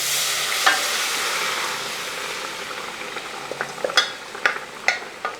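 Cooked onions drop into frying spice powders in a pan for a restaurant-style egg curry: a loud hiss fades, then sharp scraping stirs and clatters come in an uneven rhythm.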